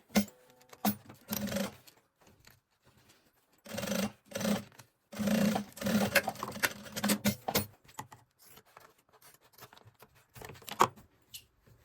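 A sewing machine stitches a maternity bag in short bursts of rapid whirring and clatter, separated by quiet pauses and small rustles of fabric, close and fairly soft.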